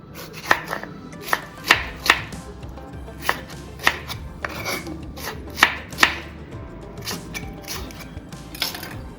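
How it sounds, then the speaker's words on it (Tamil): Knife chopping half an onion into big chunks on a board, a steady series of sharp, close cuts with short pauses between them. "அரை ஆனியன், வெங்காயம், கடையை தான் போகிறோம் அதனால பெருசு பெருசாக கட் பண்ணாலே போதும்"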